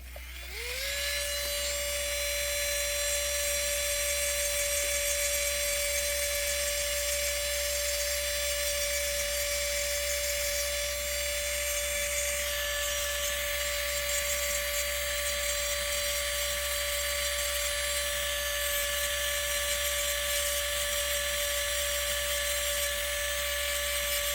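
An electric nail drill fitted with a bit spins up and runs steadily, cleaning under a nail: a loud, close, continuous high-pitched whine with a low hum beneath and a slight shift in pitch partway through, alone and without speech.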